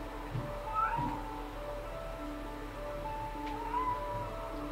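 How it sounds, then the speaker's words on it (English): Cat meowing inside the Superman Returns video game, a couple of short mewing calls over a steady game soundtrack hum, at moderate level without speech. "That's a cat."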